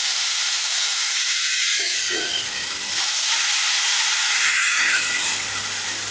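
A pressure cooker boiling jackfruit vents a steady, loud hiss of steam that runs through the whole stretch with little change, with faint kitchen sounds beneath it.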